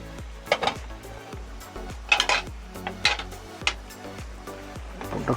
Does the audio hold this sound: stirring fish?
yes